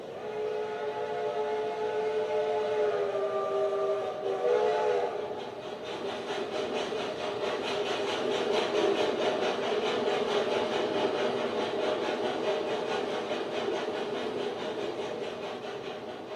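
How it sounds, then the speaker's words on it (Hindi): A steam train whistle sounds in layered tones for a few seconds, then gives way to a continuous rumbling, rattling run of the train, a staged sound effect in a Hindi theatre play, steady and fairly loud. "अमृतसर से स्पेशल ट्रेन दोपहर 2 बजे चली और 8 घंटों के बाद मुगलपुरा पहुंची।"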